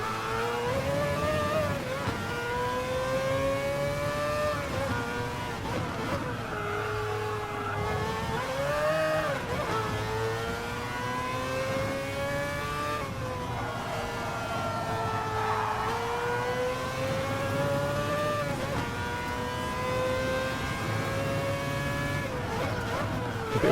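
Group C prototype race car in a racing game, engine wailing steadily through rising and falling gear changes, loud and continuous with no voices over it.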